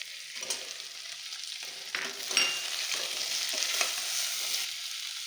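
Pumpkin and tomato sautéing in a pan for sambhar, a soft, close sizzle with spoon strokes scraping and stirring at irregular intervals.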